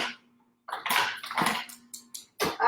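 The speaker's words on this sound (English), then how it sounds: "Excuse the noise, and I don't know how well the ice maker will work here." Irregular bursts of clattering and rattling as an ice maker dispenses ice cubes, with short pauses between bursts and a faint steady hum underneath.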